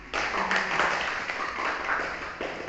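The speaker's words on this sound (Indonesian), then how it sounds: "beri tepuk tangan buat Bu Rifa" A small group of teachers in a school meeting claps for a colleague, a modest, fairly sparse patter of hands lasting a couple of seconds at moderate loudness.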